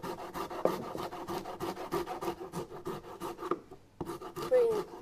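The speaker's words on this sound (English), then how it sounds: "ginger's quite tough to grate because it's so fibrous." Fibrous fresh ginger is rubbed against a microplane in quick rasping back-and-forth strokes, close and fairly soft, with a brief pause near the end before the scraping resumes.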